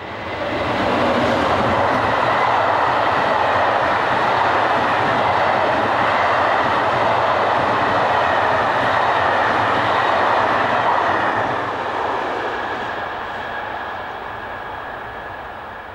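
An SNCF BB15000 electric locomotive hauls a train for Paris near Sotteville, south of Rouen, with a steady loud rush of rolling wheels and rail clatter as carriages pass, slowly fading away at the end.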